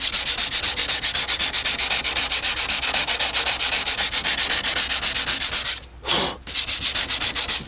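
Steady, continuous sanding strokes rub across a car body panel, feathering it down before body filler goes on, working outdoors; the close, dense scraping runs almost unbroken apart from one short pause near the end.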